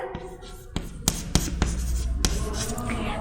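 Chalk or pen tapping and scratching out an equation on a board during a physics lecture on wave superposition, a few sharp strokes and taps, close and clear.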